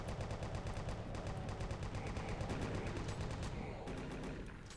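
Rapid chaingunner fire from a Doom WAD crackles continuously for the whole stretch, dense and loud, layered with other game action and a faint voice underneath.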